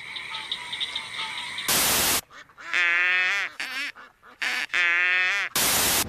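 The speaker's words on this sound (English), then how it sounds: "I think it's a leopard frog, and the southern toad" Frog and toad calls, a leopard frog and a southern toad, sound as repeated harmonic croaks and trills in a noisy outdoor chorus, broken up by bursts of loud static.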